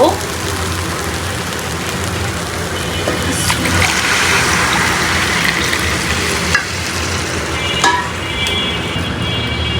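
Rice and potatoes frying in a pan hiss and sizzle steadily and loudly as water is added, with stirring scrapes and brief clatters throughout.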